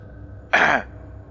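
A single soft throat clearing, short and close, with a faint hum of room noise before and after.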